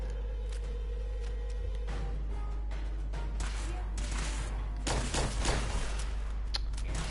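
Gunshots from Fallout 4 in a stealth power armor playthrough: scattered sharp cracks over a steady low hum, with a few louder bursts toward the end.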